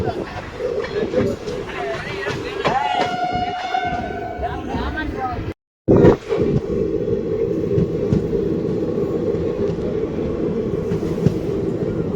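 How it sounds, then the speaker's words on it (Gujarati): A Bhavnagar–Porbandar passenger train rolls along with a steady, loud rumble, a horn blasting for a couple of seconds early on, and then a brief dropout before the clatter resumes. "તો લુણીધારમાં ટ્રેન એન્ટર થાય છે"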